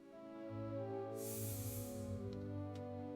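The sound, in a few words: spraying perfume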